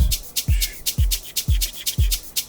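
Layered shaker pattern in an Amapiano beat, crisp rhythmic shakes interleaved with deep thumping kick hits in a steady groove, slightly noisy, loud and close with no talking.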